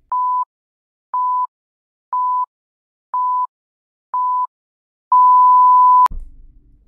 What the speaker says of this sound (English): Countdown timer.